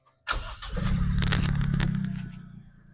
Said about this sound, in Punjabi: ਸਟਾਰਟ ਕਰਨੇ ਆ ਗੱਡੀ